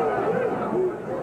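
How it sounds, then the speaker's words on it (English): A crowd at a 1983 candlepin bowling championship reacts with a low, murmuring swell of chatter and groans, a brief, moderately loud wash of mixed voices. "You can hear the crowd reaction."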